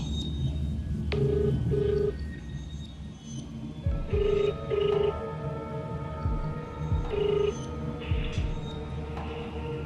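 A telephone ring tone plays in repeated short double bursts over a steady background hum, heard through a phone speaker, with brief muffled handling noises.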